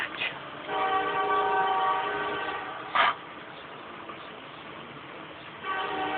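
A train rumbles past with a long horn blast partway through, its steady roar fading out and then swelling again near the end.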